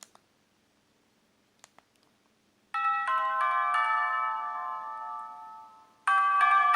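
Built-in ringtones of a Sony Ericsson K310i mobile phone from 2005: a few faint clicks from the joystick, then a bright, loud electronic melody plays alone, fades slightly, and restarts with another tone.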